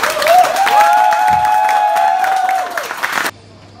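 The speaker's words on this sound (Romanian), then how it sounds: "Vă rog aplauze" A crowd applauds and cheers at an evening event, dense clapping with a sustained high whistle-like tone over it before cutting off abruptly near the end.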